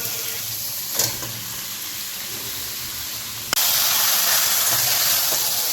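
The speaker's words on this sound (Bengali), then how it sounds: "এখন ম্যারিনেট করা মাংসটা দিয়ে দেবো" Marinated chicken, marinated about 15 minutes, goes into fried spice paste for a red chicken curry. A soft steady hiss gives way to a sudden loud, sustained sizzle that carries on to the end.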